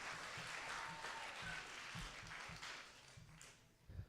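Audience applause for a correct answer at a school spelling bee, a steady wash of clapping across the room that holds for several seconds and then thins out near the end.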